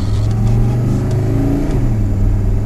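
A 1979 Mercedes 300SD diesel accelerating uphill gives a steady, loud low engine drone with a firm rumbling hum that holds throughout, recorded close with no talking.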